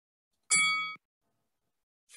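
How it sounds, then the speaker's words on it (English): A single bell ring from an old-time radio drama, one bright clear ding that decays over about half a second, followed by silence. "Oh, only one bell."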